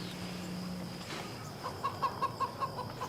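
Hens cluck in a short rhythmic series of soft, evenly spaced clucks, faint and somewhat distant over a quiet background hum.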